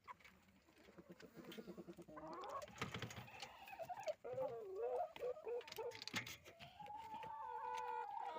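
Chickens cluck and murmur in a farmyard at feeding time, a busy layered chorus of close and farther birds with a voice talking among them.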